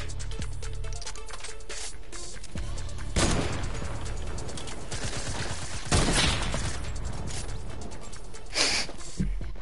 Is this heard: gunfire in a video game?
yes